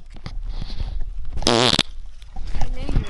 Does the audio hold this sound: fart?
yes